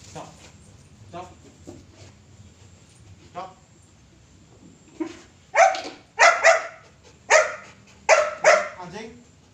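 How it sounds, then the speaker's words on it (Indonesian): A tracking-trained dog barks in a burst of five or six loud, close barks after a stretch of quieter sounds and a few soft earlier yips, with people talking around it. "Anjing menemukan sesuatu, pertanda dia tiarap dan gonggong."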